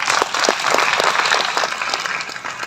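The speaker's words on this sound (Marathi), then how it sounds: "विनंती करते स्वतःसाठी एकदा जोरदार टाळ्या वाजवाव्या" An audience at a joint birth-anniversary celebration and award ceremony claps in a sustained, dense round of applause that stays fairly loud and even throughout.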